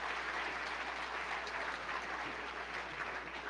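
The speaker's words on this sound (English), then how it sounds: "Now you can clap for me." An audience at a Grand Tastings wine and restaurant event claps, a dense, steady burst of applause filling the room throughout with no voices heard.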